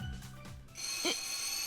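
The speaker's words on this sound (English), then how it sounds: "out of nowhere, the fire alarm goes off, a shrill blaring sound" Shrill fire alarm ringing in the video game 9-Nine-, a sharp electronic bell-like blare that cuts in after a brief low sound and holds loud and steady.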